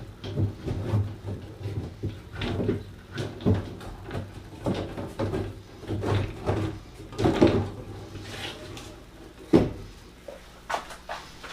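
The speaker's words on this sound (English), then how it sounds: "And then you slide in your panel." A plastic panel slides into the grooves of a PVC reptile enclosure, giving a steady run of light knocks, rubbing scrapes and clacks at close range, with no talking.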